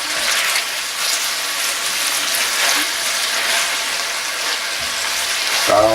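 Garlic and onions sizzle and fry in a hot pan, a constant bright crackling hiss with faint stirring movement and a small scrape of a utensil at the very end.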